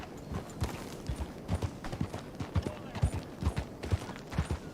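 Horse hooves in the Red Dead Redemption 2 video game, a steady rhythmic clip-clop of a ridden horse plodding along at moderate volume, each footfall a distinct thud in an even gait.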